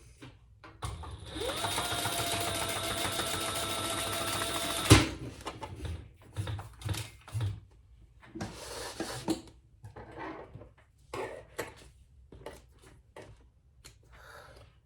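A sewing machine runs a row of stitches on a tote bag, a fast rhythmic whirring chatter for about four seconds, followed by scattered fabric handling and clicking.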